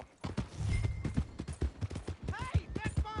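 Hooves clip-clop at close range in the Western game Red Dead Redemption 2, a quick irregular run of knocks, with a horse snorting and a voice calling out over them.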